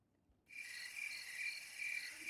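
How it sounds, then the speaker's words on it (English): Crickets chirp in a steady, continuous trill that starts abruptly after a short silence and holds at an even, fairly loud level, with no voices over it. "Where my crickets at?"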